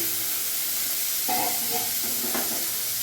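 Diced potatoes hit hot oil already tempered with whole spices, giving a close, steady sizzle with a few sharper crackles and spoon scrapes partway through.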